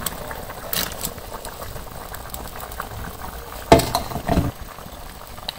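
A pot of stingray fish curry simmering on the stove, giving a steady low bubbling boil with a few sharper clatters and splashes midway, close and moderately loud, with no talk.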